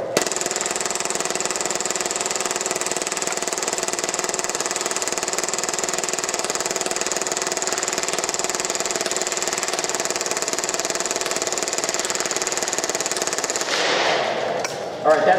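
Action Army AAP-01 airsoft pistol on full auto, a loud, continuous buzzing rattle of rapid shots held steadily for about fourteen seconds before cutting off.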